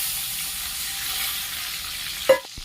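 Oil sizzling quietly in a pan with ginger, garlic and green chilli, ending in a short sharp hiss and splash as a little water goes in; no voices.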